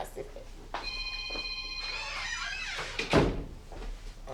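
An indoor door closes with a dull thunk near the end, after a telephone rings with a steady electronic tone. Voices are present in the room.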